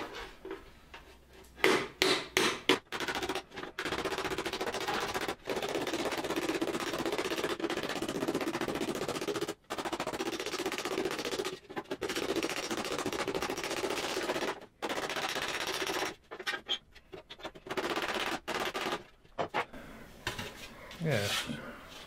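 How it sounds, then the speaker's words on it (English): A domed panel beating hammer strikes a metal helm again and again, sharp ringing metallic whacks in irregular bursts, close and loud, continuing for the whole stretch with short pauses between flurries. "a panel beating hammer is domed over, so it puts less dinks in the metal that you're whacking"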